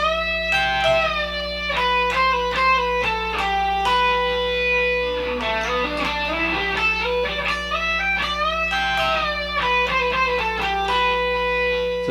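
An electric guitar plays a solo with distortion, a steady run of quick picked and pulled-off notes in repeating phrases, clear and alone over a low hum.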